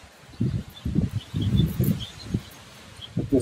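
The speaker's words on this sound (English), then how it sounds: "There's wind." Wind rustling through leaves in a yard, coming in soft gusty bursts of low rumble and faint leafy hiss, with a few tiny high chirps above it.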